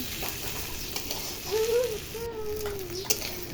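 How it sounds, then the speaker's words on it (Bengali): Spice paste with small whole shrimp fries and gets stirred in a pan, a soft steady sizzle broken by scraping stir strokes, while a faint voice murmurs in the background. "এটা খালি ভুনা করতে হবে, নাড়াচাড়া দিয়ে দিয়ে ভুনতে হবে।"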